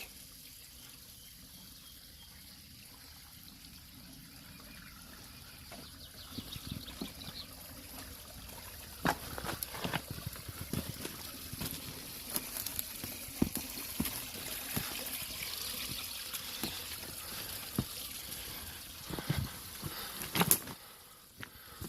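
Water flows over small man-made cascades outdoors, a faint trickle with scattered drips and splashes that grow busier toward the end.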